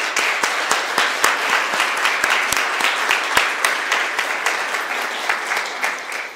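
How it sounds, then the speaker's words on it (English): Clapping from the audience at a mayor's news conference fills the room, a moderate round of distinct hand claps in a steady, even patter that carries on for several seconds and softens slightly toward the end. "If we could, a round of applause of gratitude."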